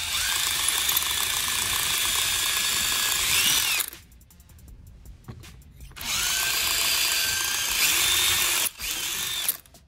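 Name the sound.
drilling out a plugged vacuum port fitting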